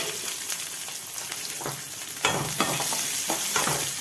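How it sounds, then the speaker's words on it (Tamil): Onion and green chili fry in a pan for a tomato upma, giving a steady close sizzle with sharper bursts of spoon-stirring scrapes in the second half, and no voices. "இந்த வெங்காயம் பச்சை மிளகாய் வதங்குற நேரத்தில்"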